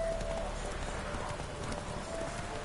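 Roach the horse gallops in The Witcher 3, a steady muffled drumming of hooves under game ambience, moderately quiet and continuous for a few seconds.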